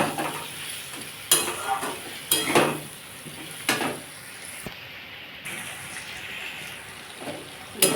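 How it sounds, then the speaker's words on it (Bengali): Rohu fish curry masala being sautéed in a pan until oil separates: a continuous sizzle with several sharp scraping strokes of the stirring spoon and occasional clatter against the pan, close and without speech. "এটাকে আমি ভালো করে আবার কষবো যতক্ষণ না এটা থেকে তেল বেরোবে"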